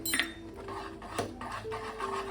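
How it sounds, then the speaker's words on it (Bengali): Semolina is stirred in a cooking pan for homemade semolina rasmalai, with cardamom powder added. Quiet, irregular clinks and scrapes of a utensil against the pan come close up, with no talking. "সুজিটা দিয়ে আমি ভালো করে এইভাবে নাড়িয়ে ফুটিয়ে দেব"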